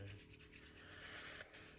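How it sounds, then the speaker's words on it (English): Two palms pressed together and rubbed briskly to build warmth during a Do-in self-massage practice, a soft, close, steady dry friction swishing alone in a quiet room. "putting the palms together in Gassho and just rubbing them to get a little heat going"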